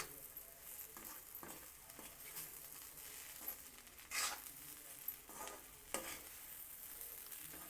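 Grated coconut is stirred into a beans curry in a hot pan, giving a soft steady sizzle with intermittent scraping strokes of the spoon, close and quiet, with no talking.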